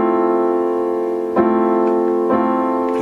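A seventh chord played in first inversion, sustained and ringing with steady harmonic tones, struck once and then re-struck twice more at about 1.4 and 2.4 seconds, clear and alone without talk.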